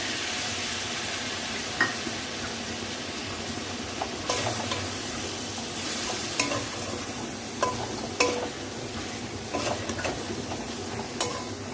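Kashmiri chili powder stirred into water is poured into a spice paste frying in oil for a red chicken curry with potatoes. A steady close sizzle runs throughout, with sharp spoon-against-pan clicks and scrapes at irregular moments.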